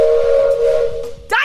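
A steam train whistle blows one long, loud, steady tone, fading briefly before a short second burst with a hissy edge.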